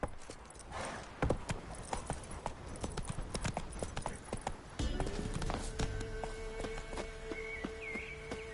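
In The Witcher 3, a horse's hooves clip-clop at a brisk pace across ground, with irregular sharp hoofbeats up close, then continue under a rising tonal drone and musical sounds in the second half.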